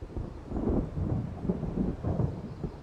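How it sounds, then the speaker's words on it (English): Thunder rolls in as a storm approaches in the Alan Wake video game, a low rumbling swell in several pulses that stays steady and fairly loud, with no voices. "It seems there's a storm coming."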